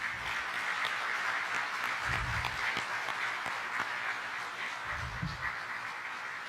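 Faint, steady applause from an audience at a city state-of-the-city address, a distant wash of clapping heard alone with a couple of low thumps.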